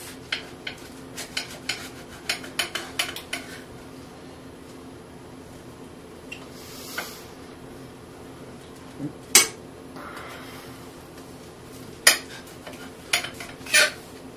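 A sharp knife cuts a buffalo chicken quesadilla in half on a plate, giving a string of quick metallic clinks and taps against the plate, then a few louder scrapes and knocks, close and without talk.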